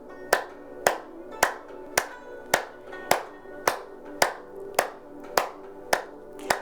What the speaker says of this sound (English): we're going to be clapping the hands vigorously